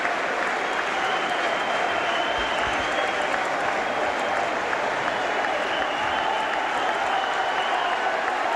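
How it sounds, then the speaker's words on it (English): Warrington rugby league supporters in the main stand applaud their players after the 1985–86 championship final against Halifax: sustained, dense clapping from a large crowd, steady and loud throughout with no break. "Warrington players now get a round of applause from the main bunch of Warrington supporters in the main stand."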